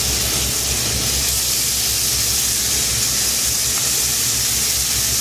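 A loud, steady hiss and sizzle of bacon frying in a hot pan during Coq au Vin preparation fills the whole stretch, with no talk over it.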